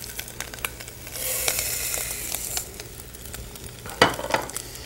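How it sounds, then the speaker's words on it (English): Rice sautéing with spices in a pan, cooked Indian style, sizzles and crackles steadily under scraping stirring sounds, with one loud clack near the end. "And saute that with those spices"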